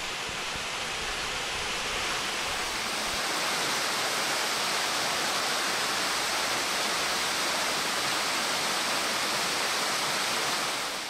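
Fountains splash steadily in the princely palace garden at Detmold, a water feature built in 1856, giving a dense, continuous rush of falling water close by with no voices.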